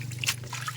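Water trickles and splashes briefly over leafy vegetables being washed in a home kitchen, a short close liquid pour.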